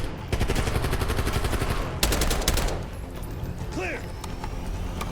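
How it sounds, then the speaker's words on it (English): Bursts of automatic gunfire laying cover fire in Call of Duty: Black Ops 6, two loud rapid volleys separated by a short gap amid ongoing combat noise, with faint voices in the background. "Laying cover fire."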